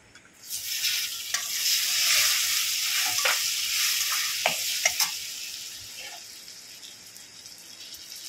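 Two medium tomatoes with Kashmiri chili and spices hit a hot pan for a vegetarian okra dish: a loud, continuous hiss and sizzle rises quickly and holds, with a few soft clicks of stirring and no voices.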